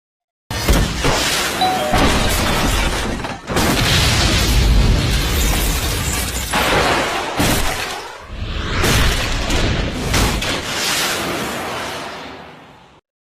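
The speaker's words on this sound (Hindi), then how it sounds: "जैसे कि आपने देखा कि नाइट्रोजन गैस का सिलेंडर कितनी तेजी से भागा" A pressurized nitrogen gas cylinder bursts and shoots off, a loud sustained roaring blast with broad rushing noise that surges, briefly drops, then roars again before cutting out, with no voices.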